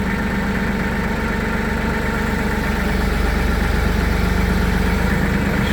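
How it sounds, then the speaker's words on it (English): A tractor engine runs steadily at a loud, close idle with a constant low rumble and vibration while the machine is raised on a lift. "I'm raising up the tractor here,"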